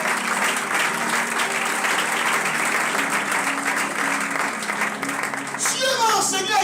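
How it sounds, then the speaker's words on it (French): Church congregation applauding and acclaiming the name of Jesus, a steady wash of loud clapping from many hands lasting several seconds, with voices and a musical tone underneath. "Est-ce que tu peux acclamer le nom de Jésus sur le camp?"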